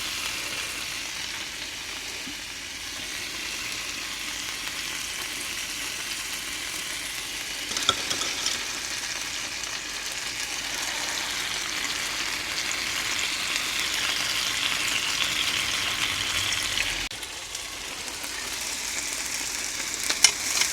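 Thai moo ping pork skewers sizzle steadily on a grill as they are turned and basted, a continuous bright crackle with a few soft knocks and shifts in intensity, no talk.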